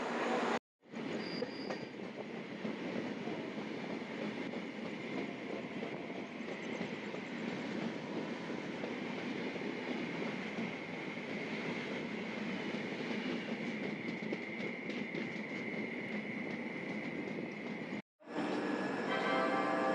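Kanchankanya Express passenger train running, a steady loud rumble and clatter of wheels on rails that continues throughout, with short breaks near the start and end.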